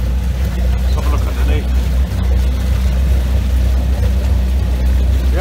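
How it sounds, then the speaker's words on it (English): Twin engines on a Sealine 255 Senator boat run in a steady, close, low droning hum, with a voice speaking over it. "I do hear the sound of two engines running nicely"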